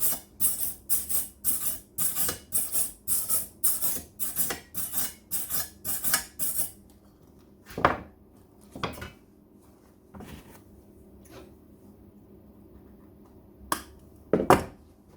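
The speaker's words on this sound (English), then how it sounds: "cleaning up the gunk off the weld is very important" A weld being cleaned of slag and gunk: a fast, regular run of scraping strokes, then a pause broken by a few separate sharp scrapes and taps, close and fairly loud.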